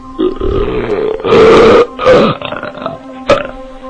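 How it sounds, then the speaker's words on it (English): A loud, drawn-out belch rolls out in several throaty bursts over about four seconds, close up and alone with no talking. "it's rude to belch at the dinner table"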